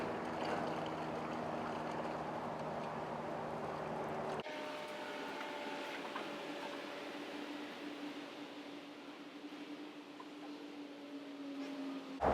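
A water hose rinses dirt and debris out of the rocker panels on a C8 Corvette, making a quiet, steady hiss of spraying water whose tone shifts partway through as the stream moves.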